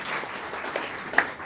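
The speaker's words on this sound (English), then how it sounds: "make some noise for yourself, guys. Clap." A school event audience claps and cheers in a steady, moderately distant patter of many hands, fairly soft overall with a small sharper clap near the end.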